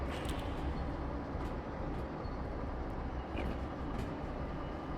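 A train passes in the Derail Valley railroad video game, giving a steady, loud rumbling roar with faint metallic clicks on top, heard with no talk over it.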